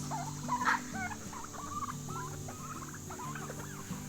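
Several hungry turkeys gobble and chatter in a turkey hut while eating crumbs, a rapid run of repeated warbling calls overlapping at close range, moderately quiet, with no talking.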